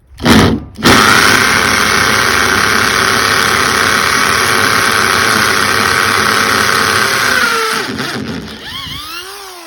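A power drill boring a hole runs in one long steady whining drone for about seven seconds, loud and close, with a sharp burst before it and a winding-down whir at the end.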